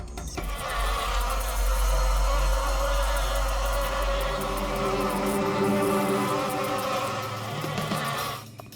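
Bees swarm around a beehive in a loud, dense, continuous buzz with a deep low hum, steady for about eight seconds before tapering off at the end.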